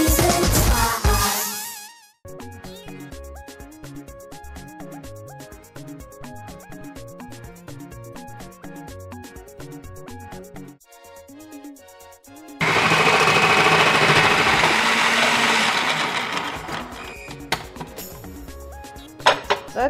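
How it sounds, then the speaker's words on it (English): A kitchen food processor grating carrots starts as a loud burst, gives way to a stretch of rhythmic clattering, then returns as a steady, loud whirring grind that runs to the end. "I'll show you how to use a food processor to grate your carrots"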